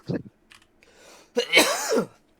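A single close sneeze, a quick intake then a sharp burst, preceded by a few soft breaths and rustles.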